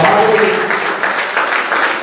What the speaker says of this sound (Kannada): ಒಂದು ದೊಡ್ಡ ಚಪ್ಪಾಳೆ ತರಬೇಕು